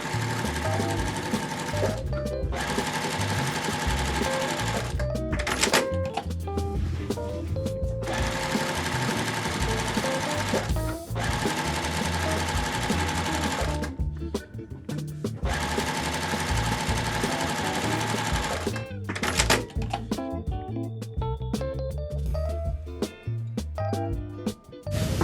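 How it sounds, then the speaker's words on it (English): A home sewing machine joins quilt pieces for a layer cake quilt, running in long bursts of rapid rhythmic clatter with brief pauses between seams and soft handling noises during the stops. "And I'm going to sew all my 3 pieces together as well."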